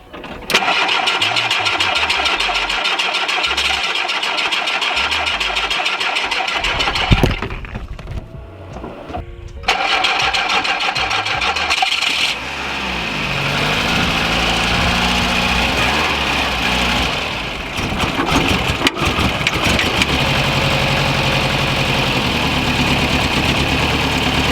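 A 1980 VW Rabbit Pickup engine cranks, falters and catches, then settles into a steady, loud idle close by with an uneven, slightly rough tone, no talking over it.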